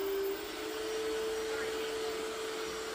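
A PrettyCare R1 Max robot vacuum on strong mode whirs with a high tonal whine, loud and constant throughout, no pauses.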